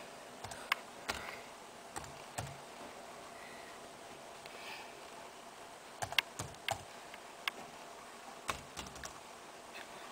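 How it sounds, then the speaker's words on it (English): Light taps on an iPod Touch screen keyboard while an IP address is entered, a sparse irregular run of soft close clicks over a quiet background. "So you type in here the IP address"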